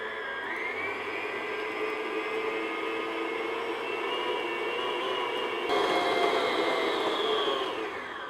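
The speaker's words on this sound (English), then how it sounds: "So now I'm just going to beat this on medium-high speed just to get everything mixed together" An electric mixer beats sugar cookie dough at medium-high speed, a steady close whirring hum with whining motor tones that shift slightly partway through as it keeps running.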